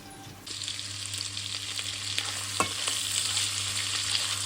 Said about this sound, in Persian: و خوب این گوشت رو سرخ میکنم